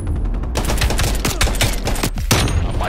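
Loud, rapid automatic gunfire in Call of Duty: Black Ops Cold War, a fast unbroken rattle of close shots lasting about three seconds.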